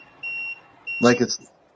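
An air conditioner beeping as its setting is lowered: two steady high electronic beeps, fairly close, followed by a person speaking.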